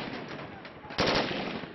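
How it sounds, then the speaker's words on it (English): Rapid automatic gunfire from police shooting into a crowd of workers during the December 2011 clashes in Kazakhstan. A dense rattle of shots swells into a loud volley partway through, with faint voices in the background. "The gunfire is heavy and goes on for a while."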